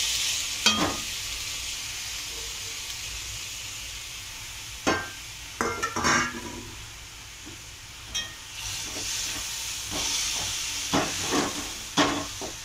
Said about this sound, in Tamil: இப்போ வந்து நம்ம தட்டைக்காய் வேக வச்சது போட்டுக்கலாம்.